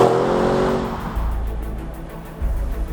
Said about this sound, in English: Every time you put your foot down, you unleash a torrent of torque and power and aggression.